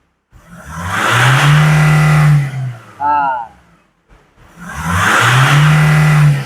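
A Nissan Navara D40 pickup engine, running weak and failing to climb past about 2,000 rpm with a suspected fuel pump fault, revs up twice in long loud swells with a short pause between them.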